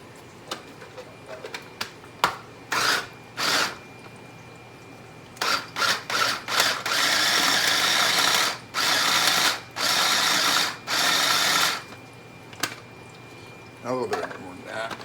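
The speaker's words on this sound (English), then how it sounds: "I'm going to blend these sausages up in the crumbles while that fat is melting" A blender chops sausages into crumbles in short, loud pulsed bursts of motor whirring, then runs longer near the middle. Quieter clicks and handling noises fill the gaps.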